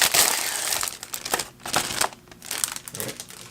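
Packaging crinkles and crunches as the box of an Arteck HB030B backlit Bluetooth keyboard is opened, in several close, irregular bursts of crumpling with short pauses between.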